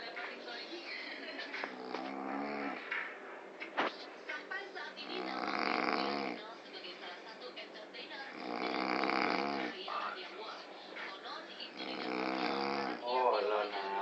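A person snoring in long, loud rasping breaths repeating every few seconds, heavy and close, with a brief voice and some smaller noises between the snores.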